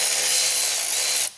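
A ratchet spins on a 10 mm bolt in a supercharged Corvette engine bay, a fast continuous buzzing rattle held up close for over a second before it stops abruptly.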